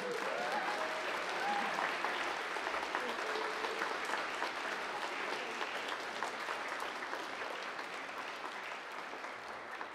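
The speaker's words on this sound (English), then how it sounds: "I want our 1 to 14 group, that minus Megami, all to give a round of applause to Megami, our fearless leader." A church congregation applauds during a Sunday service, giving a steady, dense round of clapping that lasts the full ten seconds. The clapping fades slightly toward the end, and a faint voice sounds briefly near the start.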